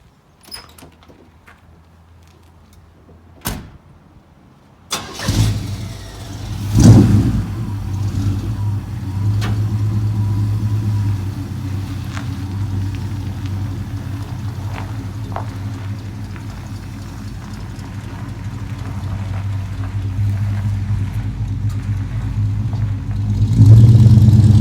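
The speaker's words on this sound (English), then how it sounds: "Okay, got the old truck out of the way." An old white pickup truck starts up: a few sharp door clunks come first, then the engine catches and settles into a steady running rumble, swelling louder again near the end as it pulls away.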